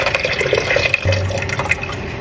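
Coconut milk poured into a pot of lobster curry with garlic and pimento berries, a steady liquid gurgle and splash running close and continuous throughout.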